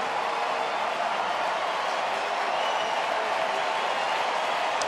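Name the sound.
ballpark crowd cheering at baseball game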